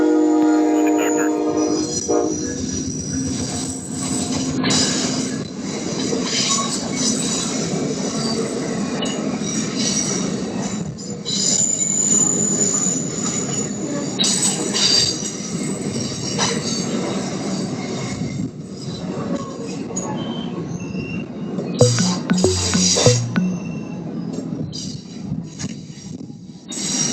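A Union Pacific work train rolls through San Luis Obispo, its wheels squealing and grinding steadily on the rails, with a horn-like tone near the start and a louder screech about three quarters of the way through.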